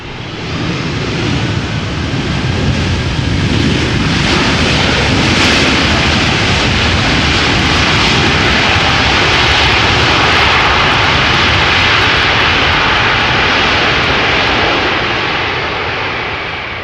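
An Airbus A330-300 lands after a long-haul arrival at Amsterdam Schiphol in crosswind, its engines roaring loudly and continuously as reverse thrust builds and holds, a broad sustained rumble heard from a distance.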